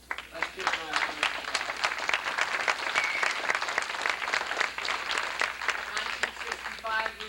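Audience at an SDS reunion applauding Ruth Gibson, sustained clapping with sharp individual claps close by and voices talking underneath throughout.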